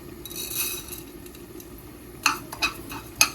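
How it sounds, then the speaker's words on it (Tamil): Fennel seeds dry-roasting in a pan for a Jaffna-style coconut milk chicken curry, a soft low crackle under a few sharp metallic clinks and scrapes of a spoon, close with no talking. "இங்கே பெருஞ்சீரகம் வறுக்க போகிறேன்"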